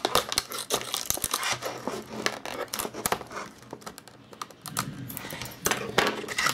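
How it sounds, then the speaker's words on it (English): Scissors snip and tear at a sturdy cardboard box holding an Oral-B Professional Care 600 electric toothbrush, with close, irregular clicks, crunches and crinkles that keep going for several seconds. "It's a very sturdy box, so I have to use my scissors to get it open."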